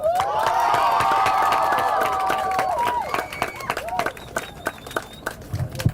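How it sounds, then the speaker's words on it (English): Supporters at a homeless vigil led by school students cheer and clap in a loud, dense burst that tapers after about four seconds into scattered claps and voices. "Round of applause for them."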